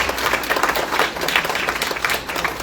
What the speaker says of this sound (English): Now we can clap now.